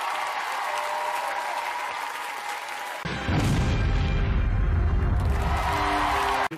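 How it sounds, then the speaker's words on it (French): A television talent show audience at Star Academy applauds, first a steady clapping wash, then louder cheering and clapping swelling with stage music underneath. "Musique, applaudissements, s'il vous plaît."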